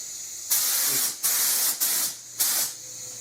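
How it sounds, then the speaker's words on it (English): Several loud bursts of aerosol spray paint hiss close by, each lasting under a second with short pauses between them. "I can spray the roof in the outside down"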